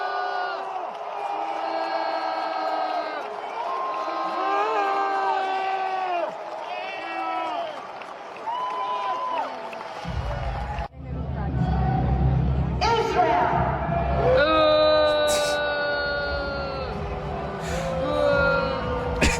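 Eurovision crowd booing rises as a loud, dense roar of jeers and shouts in the second half, following a stretch dominated by voices and music.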